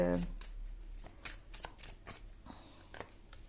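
Playing cards are shuffled and drawn from a deck during a tarot-style reading, giving a string of crisp riffling and snapping flicks. Each burst is short, and faint talk runs underneath.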